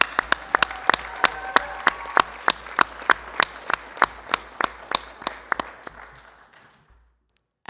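An audience at a school board meeting gives a few slow, widely spaced claps that ring out clearly in a quiet room, spreading into scattered clapping, then fading to silence near the end.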